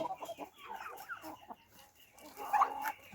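Backyard chickens in a mixed flock with turkeys, muscovy ducks and geese, giving soft, scattered clucks and murmurs at moderate distance, rising to a slightly louder cluck near the end.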